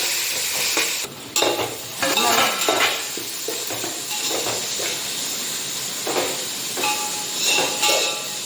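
Small onions sauté in a pan with a steady sizzle, broken by repeated scraping and stirring strokes of a utensil against the metal, close and fairly loud throughout.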